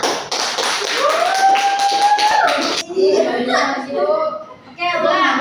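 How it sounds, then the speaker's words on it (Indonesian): A classroom of schoolchildren gives a round of applause during a microteaching lesson, with dense, steady clapping for about three seconds, followed by children's voices and chatter. "Beri aplaus dulu."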